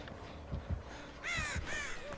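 Crows cawing in the Dead by Daylight video game, two loud harsh caw bursts in quick succession over a low rumbling game ambience with soft thuds.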